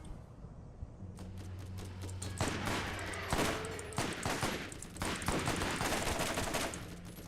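Gunfire in the Borderlands video game, rapid bursts of automatic shots and cracking rounds following a brief quiet start, dense and loud through most of the stretch.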